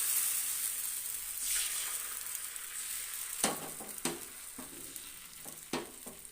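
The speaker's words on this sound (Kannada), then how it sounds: "ಈಗ ದೋಸೆ ಹಾಕ್ತಾಯಿದ್ದೀನಿ." Thin neer dosa batter poured onto a hot tava over a gas flame, a steady hiss of sizzling that fades, followed by several sharp clacks and taps of utensils.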